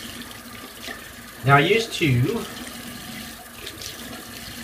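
Tap water runs briefly into a sink while a man rinses off after a shave with C.O. Bigelow shaving cream. The short splash is heard alongside his speech.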